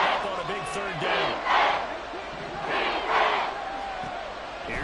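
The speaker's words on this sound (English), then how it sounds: "The crowd getting into it as we come up on a big 3rd down." A football stadium crowd roars steadily ahead of a big third-down play, a dense wash of cheering that swells in a few broad surges over about five seconds.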